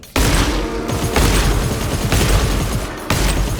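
Rifle fire in the co-op shooter GTFO cracks out in four loud, close bursts about a second apart, each a heavy booming shot with a rolling tail.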